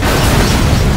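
A grenade blast in the shooter game Black Mesa, a loud, dense low rumbling roar that fills the whole moment without a break, close and heavy.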